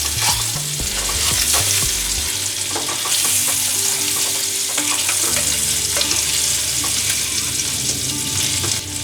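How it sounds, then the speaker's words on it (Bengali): Eggs frying gently in oil in a pan for egg korma, a loud continuous sizzle and crackle with stirring scrapes, close and busy, without any speech. "বেশি ফ্রাই করা যাবে না, একদম হালকা করে ফ্রাই করে নিতে হবে।"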